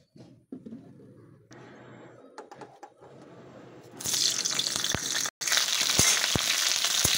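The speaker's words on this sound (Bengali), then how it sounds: "প্রথমে ফুলকপিটা ভেজে নিচ্ছি।" Cauliflower fries in oil in a home kitchen, starting as quiet clatter and then swelling to a loud, steady sizzle broken by sharp knocks of a utensil.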